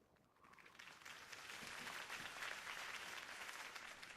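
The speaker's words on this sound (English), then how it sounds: "If only Mr. Wayne, my campaign's largest backer, could have heard that applause" A crowd in the Batman Telltale game applauds after a campaign speech, the clapping swelling from quiet to a broad, steady roar that sounds distant and even.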